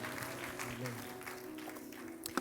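Hands clapping from a church congregation at a sermon, a dense steady patter filling the moment at moderate level with a low voice murmuring underneath.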